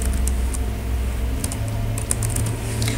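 Keys clatter on a computer keyboard as the word Italie is typed into a map search box, a quick, close run of light clicks with no talking.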